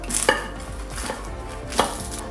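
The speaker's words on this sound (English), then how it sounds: "You always have to cut it in half." A knife cuts through a turkey and cheddar sandwich on sourdough, giving a crisp crunch of crust followed by two more sharp chops on a cutting board, close and clear with nothing else over it.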